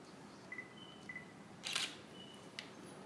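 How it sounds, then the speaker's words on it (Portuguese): A Nikon D3100 shutter fires once as a photo of a window is taken, a brief close mechanical click-clack heard alone in a quiet room with faint background hiss and a few soft beeps. "Vou tirar uma foto aqui da janela mesmo."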